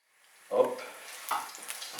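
Garlic sizzling in hot oil in a pan over raised heat, starting as a sudden close burst of frying that settles into a continuous crackle with a few louder pops.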